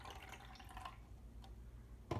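Sodium cyanide solution, about 10 milliliters, poured off from a container: a soft, quiet liquid trickle in the first second, then near silence with faint clinks and a brief knock at the end.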